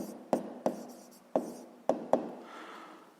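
Pen or chalk writing out a sixth-grade math solution, five distinct tapping strokes at uneven intervals, each quick knock fading, close and alone, followed by a faint scratching.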